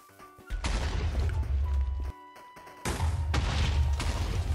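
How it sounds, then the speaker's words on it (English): TNT blasts tear through an old base in Minecraft: two loud, broadband explosive bursts with booming low rumble, separated by a short gap, each sustaining a crackling roar. "It wasn't the cleanest of explosions ever, but it was still satisfying."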